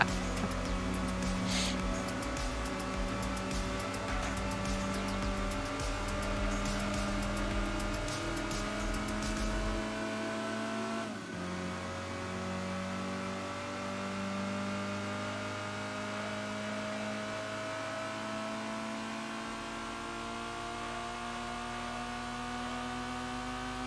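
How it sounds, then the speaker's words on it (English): A race car engine in the PlayStation game Gran Turismo 2 revs hard and steadily, its pitch climbing and dropping through gear shifts with a high whine, loud and close, with no one speaking. "sounds like the engine's gonna explode"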